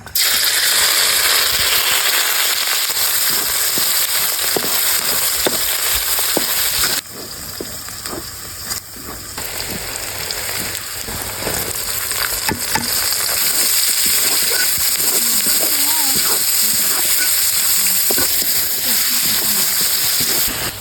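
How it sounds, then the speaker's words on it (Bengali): Minced garlic frying in hot oil for an outdoor picnic meal, a loud, steady crackling sizzle that runs throughout, with occasional clinks and scrapes from stirring in the pan. "গরম তেলে হালকা রসুন কুচি দিয়ে দেবো"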